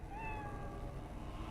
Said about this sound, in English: But then again, what did the possessed cat have to say?